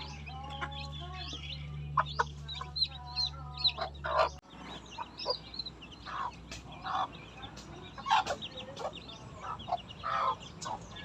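A hen clucks softly amid a stream of high, chirping peeps from 26 chicks in a backyard, close and continuous over faint outdoor background.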